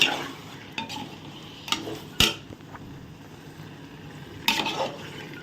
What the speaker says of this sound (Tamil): கால் லிட்டர் தயிர் போட்டு நல்லா மிக்ஸ் பண்ணுங்க